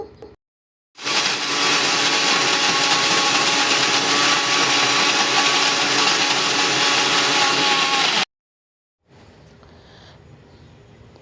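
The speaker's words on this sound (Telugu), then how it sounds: "ఇక్కడైతే మిక్సీ పట్టుకుంటున్నా నేను" A mixer grinder whirs loudly and steadily for about seven seconds grinding dry fruits into protein powder, starting and stopping abruptly, with a quieter hum after it cuts off.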